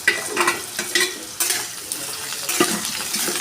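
Cumin seeds and chopped green chilies sizzle and spit in hot mustard oil, with a steady frying hiss. A utensil stirs and clinks against the pan at irregular moments, and no one speaks.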